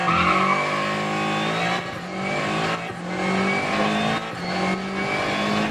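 A rally car in the AC Rally video game revs hard with a loud, continuous engine drone that shifts pitch through gear changes, mixed with tire skidding and squeal.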